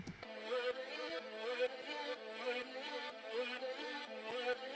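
Resampled vocal chops carry an electronic music drop, dense pitched vocal fragments stacked over a steady synth bed, chopped into a busy continuous rhythm at full, close level with no talking.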